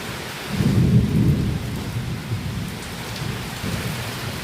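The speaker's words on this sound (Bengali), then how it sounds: "কি ঝড়!" A thunderstorm with heavy rain and wind strong enough to bend coconut trees: a deep rumble of thunder swells early, then a steady, dense downpour continues, close and fairly loud.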